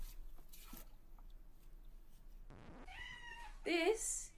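A cat meows twice in quick succession near the end, the second cry louder and higher, after a quieter stretch with faint background sounds.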